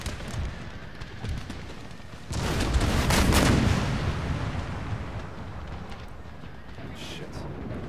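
Musket gunfire in Empire Total War with Darthmod: after a low rumble, a single loud crackling volley bursts out near the middle and fades into a drawn-out battlefield din.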